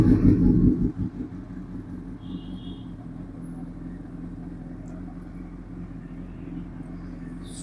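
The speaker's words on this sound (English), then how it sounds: "starting the vehicle." A car engine starts with a short loud burst, then runs at a low, even rumble during a night-time coolant test, fairly quiet and steady throughout.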